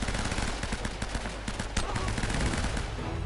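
Automatic M4 rifle fire in the video game Uncharted, made up of rapid, steady bursts of shots. The shots sit in a dense, noisy mix of combat sound and run close and continuous throughout.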